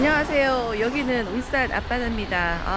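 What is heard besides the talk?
No everyday noises stand out.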